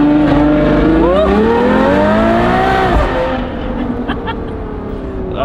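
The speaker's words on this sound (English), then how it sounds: "as soon as you let go of the brake, it's gonna launch the car" A supercar launches hard from a standstill off the brake, its engine roaring loud and close as the rising pitch sweeps up through the gears, then eases into a lower, steady drone.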